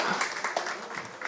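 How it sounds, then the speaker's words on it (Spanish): Brief burst of audience clapping at a live talk event, a dense crackle of many hands that stays steady for its short length, with voices mixed into it. "y que me aplaudan para que se me quiten los nervios."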